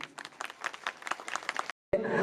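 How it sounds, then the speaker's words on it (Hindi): Scattered clapping from an audience at a school's annual prize ceremony in Sargodha, uneven individual claps at moderate level that stop abruptly, followed by a brief silence and a new burst of noise. "जनाबे सर अब्बास के लिए एक बार भरपूर तालियाँ"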